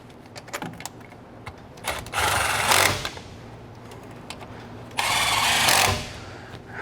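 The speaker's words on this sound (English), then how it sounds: "Take your impact and tighten them up." An impact wrench tightens nuts on a lift bracket during a 4-inch lift install on a 2019+ Chevy 1500 truck, with two loud, close bursts of rattling hammering, each about a second long, among quieter clicks and handling noises.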